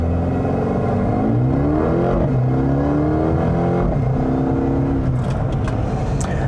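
A 2020 Mercedes-AMG CLA 35 with 302 hp accelerates hard. Its engine note climbs through several rising sweeps with brief dips at the gear changes, loud and close, with no talk.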